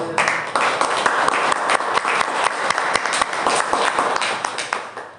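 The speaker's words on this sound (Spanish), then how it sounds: "Damos un aplauso." A crowd applauds steadily, dense clapping filling the whole stretch at a fairly loud, even level.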